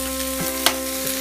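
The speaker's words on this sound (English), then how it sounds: "Just popping and sizzling, as you can see." Leftover macaroni and fish pop and sizzle softly in a pan over a steady background hum, with a couple of small sharp crackles.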